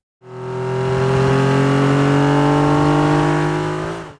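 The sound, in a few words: car engine and exhaust revving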